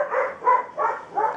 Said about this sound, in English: barking at the neighbour because they're not impressed